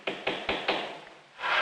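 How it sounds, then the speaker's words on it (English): Tools strike leather in four dull taps in a steady rhythm, followed by a brief pause and a soft scraping sound, close and fairly quiet. "Or the dull tap, tap of tools on leather."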